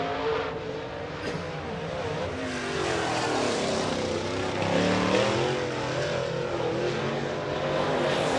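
Late model race cars running qualifying laps at Boyd's Speedway, a loud continuous engine drone that swells and fades as cars pass, with rising revs midway and no talk.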